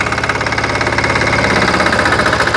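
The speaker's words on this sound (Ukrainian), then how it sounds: "Вижимаю щеплення друга. І зараз переходжу на збільшені." A walk-behind tractor engine runs loud and close in a higher gear, a rough, rapid chugging with knocking vibration throughout.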